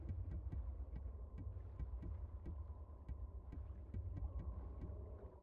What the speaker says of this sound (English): you can hear some Morse code.